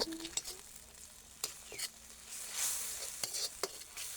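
Red curry paste fries with coconut milk in a pan for a pork and Thai eggplant curry, with an ongoing close sizzle, several sharp scraping stirs and faint clinks, and no talking.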